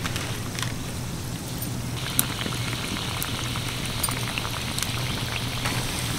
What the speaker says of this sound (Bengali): এরকম হালকা তেল গরমেই এগুলোকে ভাজতে হবে।